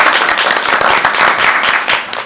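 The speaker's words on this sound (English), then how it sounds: "let's give him a round of applause." A room full of people applauds at a board meeting, dense steady clapping that carries on throughout.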